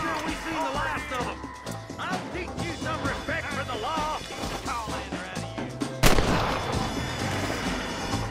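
Gunfire in the Western game Red Dead Redemption rings out as several sharp shots, the loudest blast coming near the end, mixed with game music and voices talking over it.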